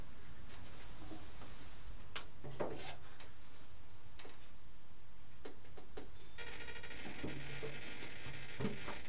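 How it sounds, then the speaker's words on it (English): Faint, irregular mechanical ticking and clicking of servos chattering on a Turbo Bushmaster RC plane with Futaba radio, with a buzzy, whirring stretch near the end; no one speaks. "So that noise you can hear is just the servos chattering."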